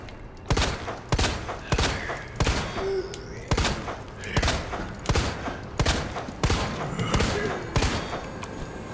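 Gunfire from the survival horror game Resident Evil 2, set in an underground tunnel: a steady run of about ten loud, sharp shots spaced roughly a second apart, each with a short echoing tail.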